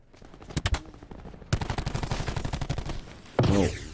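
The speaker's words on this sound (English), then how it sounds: "Who's shooting at me?" Bursts of automatic gunfire from a Call of Duty Black Ops multiplayer match: a short volley of a few close shots, then a sustained rapid rattle of fire, followed by a loud metallic impact or explosion at the end.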